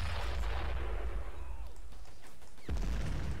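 In the Men of War video game, heavy gunfire booms out as a loud blast, followed by a decaying rumble and a second sharp shot near the end, over steady battlefield noise.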